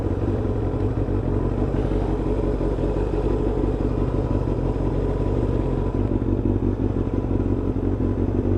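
Kawasaki ZX-7R motorcycle engine rumbling steadily while riding close behind another Kawasaki Ninja, a loud continuous low drone with faint clatter throughout, near and alone without talk.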